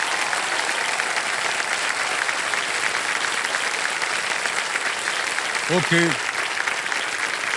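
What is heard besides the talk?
studio audience applause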